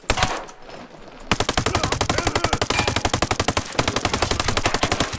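Loud, rapid automatic gunfire in the video game Ghost Recon Breakpoint, rattling off in fast sustained bursts with a short pause near the start and another briefly later.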